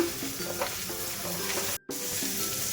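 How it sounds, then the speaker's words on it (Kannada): Ivy gourd (tondekayi) frying in a pan over low heat while being stirred, a steady close sizzle with soft scraping strokes and a brief silent gap near the end. "ಇದನ್ನು ಸಿಮ್ಮಲ್ಲಿ ಇಟ್ಕೊಂಡು ಚೆನ್ನಾಗಿ ಫ್ರೈ ಮಾಡ್ಕೊಳ್ಳೋಣ."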